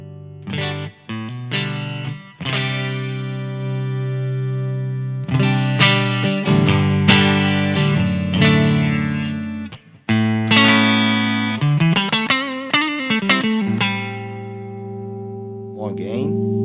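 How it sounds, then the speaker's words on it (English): A heavily distorted electric guitar played through a high-gain preamp plays chords and bends, thick and saturated, with pauses between phrases. "The high gain tones from this preamp are very fat and creamy."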